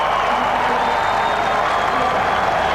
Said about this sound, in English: giving him the biggest cheer of all.